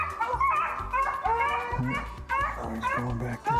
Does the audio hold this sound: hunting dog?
yes